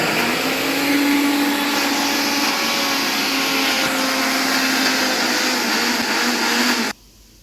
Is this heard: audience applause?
no